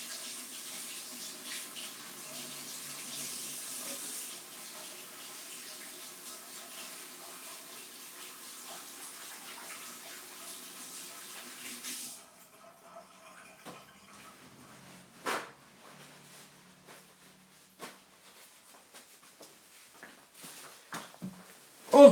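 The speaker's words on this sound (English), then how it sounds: "I go and wash my hands and wash my brush" Tap water runs steadily into a sink while hands and a paint brush are washed, a constant close hiss that stops partway, followed by scattered faint knocks and clatters.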